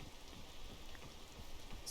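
Rain in the game PEAK, a faint, steady hiss of falling drops with a low rumble beneath, quiet and continuous without speech.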